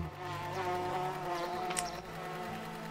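Buzzing bees in the video game Backworlds, a steady insect drone running continuously under layered game music at a moderate level.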